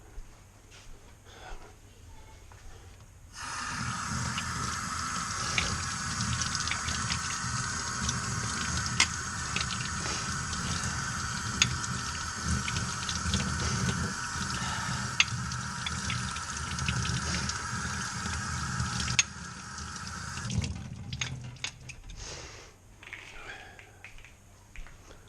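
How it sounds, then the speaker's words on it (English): Tap water gushes and splashes for about fifteen seconds while a cleaned part from a Jaguar MKII engine rebuild is rinsed, starting and stopping abruptly, with quieter handling noise before and after. "I'll give this a rinse off now under the tap."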